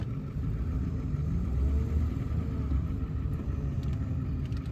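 Car driving with a dragging left front brake caliper, giving a steady low road rumble and drone from the moving vehicle throughout, with no distinct scrape standing out.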